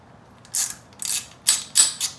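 Ratcheting clicks from a hand wrench loosening a four millimeter Allen head bolt on a Yamaha YFZ450 quad, four or five short, close bursts in quick succession.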